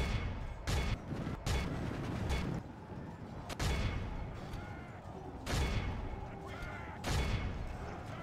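Volleys of gunfire from troops in the Total War Third Age battle, Ar-Adunaim campaign, with repeated sharp bursts over a continuous rumbling battlefield din, fairly loud throughout.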